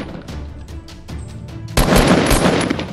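Sustained burst of gunfire from a Fortnite battle royale match erupts abruptly after a quieter stretch of lighter shots, continuing loud and dense to the end without talk.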